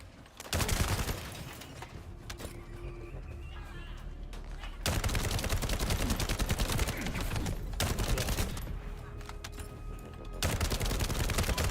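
Hand cannon fire in The First Descendant, a free-to-play shooter, comes in loud, rapid bursts of booming shots that hit hard and echo, broken by short quieter lulls between volleys.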